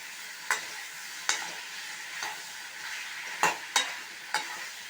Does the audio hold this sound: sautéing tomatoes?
yes